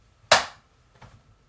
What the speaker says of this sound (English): And then I'll do a clap for that one.